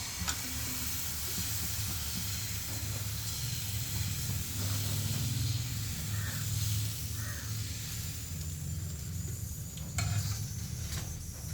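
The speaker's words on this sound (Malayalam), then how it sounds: "ഇനി നമുക്ക് ആ മാവ് അങ്ങോട്ട് പൊരി ഒഴിക്കാം." Dosa batter made from Aashirvaad atta hisses and sizzles on a hot pan, a loud, steady frying crackle up close with faint scraping and no speech.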